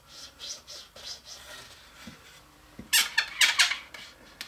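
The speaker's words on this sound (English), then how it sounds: "You can hear that's kind of a squeaky tight fit" A wooden part for a children's rocking chair is pressed into a drilled 3/8-inch hole in the seat, a tight fit. A few faint scrapes come first, then a burst of sharp, high squeaks close by.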